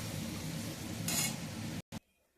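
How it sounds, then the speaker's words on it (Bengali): A pan of onion and green chili paste frying and being stirred, with a steady close sizzle and scraping that swells briefly, then cuts out abruptly near the end. "এই সময় দিয়ে ভালো করে নাড়াবো"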